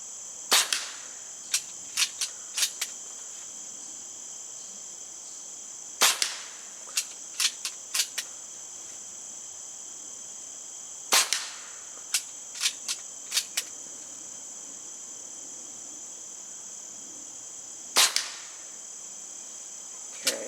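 Diana Bandit .22 PCP air pistol firing at targets: four groups of sharp, snappy shots, each a lead shot followed by a few quicker cracks, with a steady high-pitched hiss running underneath.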